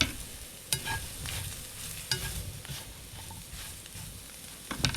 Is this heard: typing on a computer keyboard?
no